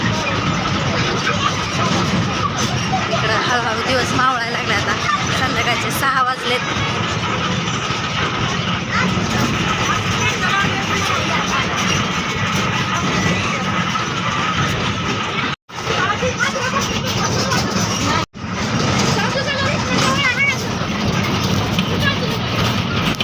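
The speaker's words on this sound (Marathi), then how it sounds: "टेम्पो असल्यामुळं आपला कॅमेरा हलतोय जरा" A tempo vehicle rumbles along a village road carrying passengers, its engine droning steadily with rattling and road noise beneath ongoing talk, with two brief cutouts near the end.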